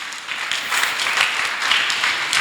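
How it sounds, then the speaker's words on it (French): A church congregation bursts into applause, a dense burst of many hands clapping together at moderate distance, steady throughout the short stretch. "On acclame, on acclame."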